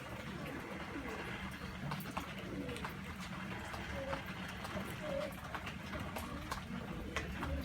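Wild pigeons or doves coming in to feed, soft cooing calls and wing and rustling sounds outdoors at low level, with faint background noise and no clear talking.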